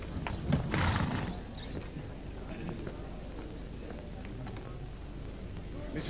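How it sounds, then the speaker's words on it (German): Runaway horses in a period drama, a scattered clatter of hooves with a brief whinny near the start, continuing under a busy street bustle at moderate loudness. "Die armen Pferde."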